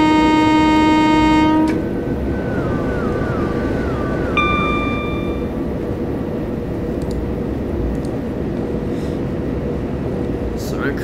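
Train passing a station in the Train Simulator 2018 video game, with a loud sustained horn blast followed by a descending tone and a steady rumbling roll of the carriages going by.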